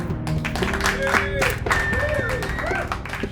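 An audience at a charity event applauds, a dense wash of clapping running throughout beneath a voice speaking and other sounds over it.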